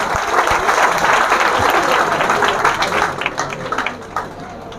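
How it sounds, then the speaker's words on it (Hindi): Crowd applause at a school prize-giving for Independence Day: loud, dense hand clapping that thins out toward the end into a few scattered claps. "जोरदार ताली लगाइए इसके लिए।"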